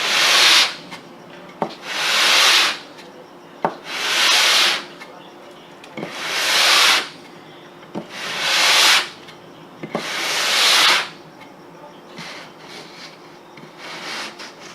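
Sandpaper rubs on the wooden stock of a Winchester 1895 Russian musket in steady back-and-forth strokes, seven or eight rasping bursts separated by short pauses, close up and alone.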